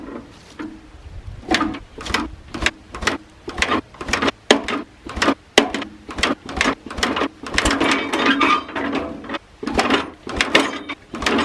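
An old tractor engine is cranked over and over by hand in short, uneven bursts, each crank a sharp mechanical chatter with brief pauses between. It never catches into a steady run.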